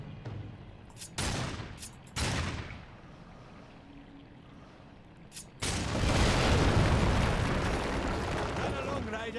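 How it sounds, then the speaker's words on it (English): Shadow bombs exploding in Darksiders 2, a few sharp separate booms early on, then a long rumbling blast sustained to the end, with game dialogue voices in between. "Oh, those are shadow bombs?"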